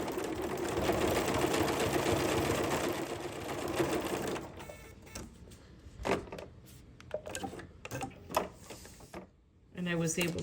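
Sewing machine fitted with an overlock foot stitches steadily for about four seconds, then breaks into short bursts and pauses as threads are handled; a voice talks over the later part.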